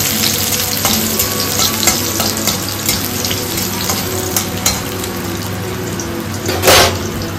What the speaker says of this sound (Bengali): এখন তেলের ওপর অল্প রসুন আর শুকনো লঙ্কা ফোড়ন দিয়ে শাকটা দিয়ে দেবে।